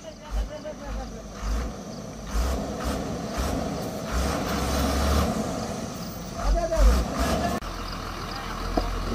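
A truck reverses with its engine rumbling low and steady, a few brief beeps and air-brake hisses over it, while people talk nearby.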